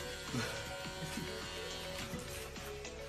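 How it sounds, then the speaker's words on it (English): Electric shaver buzzing steadily through a haircut, a continuous close hum with faint voices in the background. "You have to have a shaver here."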